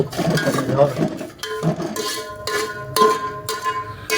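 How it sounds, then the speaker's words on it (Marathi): Dry fruits such as cashews, almonds, dried coconut and dry dates roasting in ghee in a pan, with repeated metallic scraping and clinking of a spoon against the pan and a light sizzle, a few bright ringing taps standing out. "तुपामध्ये टाकायचं, भाजायचं चालू आहे मस्तपैकी"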